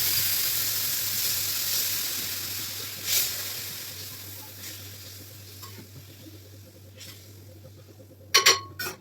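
Leftover banana flower curry sizzles and hisses steadily on a hot tawa after a splash of water, fading gradually, with a few scraping stir sounds and clinks near the end.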